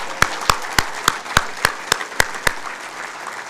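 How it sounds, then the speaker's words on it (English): Slow, evenly spaced claps, about nine distinct hand claps at a steady rhythm, fairly close and moderately loud, honoring student ambassadors at a technical college event. "can I get another round of applause for our 2025 WCTC ambassadors?"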